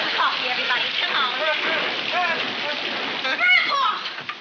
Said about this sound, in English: Well, Amos, raining, ain't it?